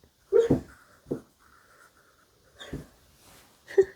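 A sleeping dog makes soft muffled woofs, whimpers and snorty breaths in scattered bursts, with quiet pauses between, close by.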